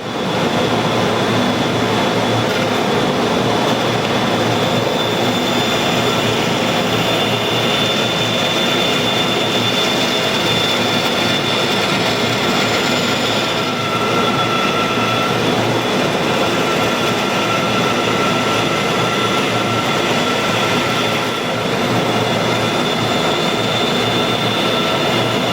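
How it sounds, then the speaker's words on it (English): A bandsaw cuts out a wooden header for arched window trim, its motor and blade giving a loud, steady roar that runs unbroken from start to finish with no talking. "So let me take this over to the bandsaw. We'll cut it out and then clean it up on the router."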